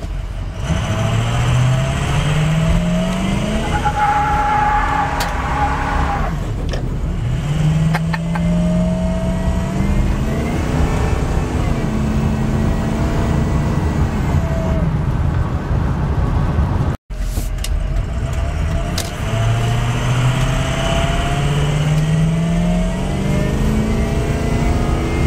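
A Ford truck's engine revs hard and climbs in pitch repeatedly, its turbo spooling as the tires light up and spin; the loud, close engine noise rises and falls in several long pulls with no talking.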